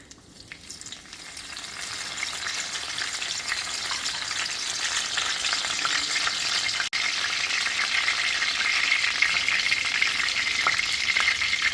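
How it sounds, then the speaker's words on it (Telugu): Curry leaves crackle and fry in hot oil in a kadai, a steady bright sizzle that swells after the first second and holds close and loud with no talking. "వేడెక్కిన ఆయిల్లో కరివేపాకు వేస్తున్నానండి"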